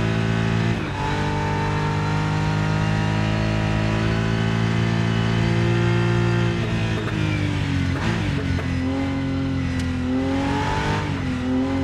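Racing car engine in the RENNSPORT racing game revs hard and continuously, with pitch dropping and rising through downshifts near the end; loud, close and steady with no talk.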